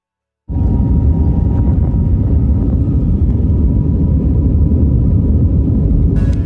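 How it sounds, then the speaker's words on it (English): The large right-side chamber fan of a Creality K1 3D printer spins up abruptly and runs at a loud, steady roar like a jet engine starting, a constant broadband whoosh sustained throughout. "The fan, the chamber fan, the big fan on the right hand side, it is loud."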